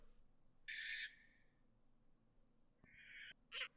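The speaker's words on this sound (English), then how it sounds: "This is a snowy owl." A snowy owl gives short, harsh, high-pitched calls: one squawk, a pause, then two quick cries close together, faint and alone against a quiet background.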